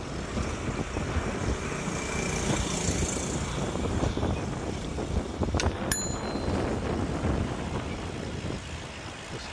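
Many motorbikes and bicycles streaming past on a busy road in China, with steady rumbling traffic noise, wind buffeting, and a brief bright bell ring around the middle.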